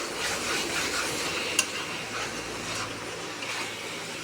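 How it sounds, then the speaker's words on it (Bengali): Bengali-style chicken being stirred and fried in a pan, a steady bright sizzle with scraping spoon strokes and one sharp clink against the metal, continuous and close, with no voices. "তো দেখো এখানে আমি ভালো করে কষিয়ে নেব।"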